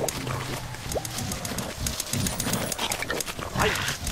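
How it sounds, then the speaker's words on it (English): A pack of dogs barks in the Up video game on Xbox 360, with repeated overlapping barks and growls close and loud amid game noise. "just how many dogs are there around here?"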